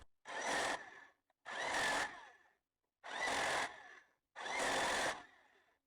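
Power tool running lock nuts onto lock washers on a big truck's rear end, in four separate whirring bursts of about a second each with short pauses between, close and steady, with no voices.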